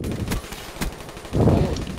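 Galil rifle firing in the video game Black Ops 3, a short burst of rapid gunshots followed by a heavier blast, loud and close over about two seconds.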